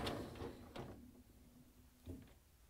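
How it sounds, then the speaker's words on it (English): A Bosch dishwasher door being opened and the lower dish rack pulled out: a few close clunks and knocks, one longer sliding rumble and a final thud, quiet overall. "Open the door and pull out the lower dish rack."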